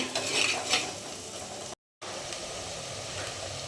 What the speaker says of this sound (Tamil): பார்த்திங்கன்னா வெங்காயம் நல்லா சுருண்டு வருது. இன்னும் கொஞ்சம் வதங்கணும் ஃப்ரெண்ட்ஸ்.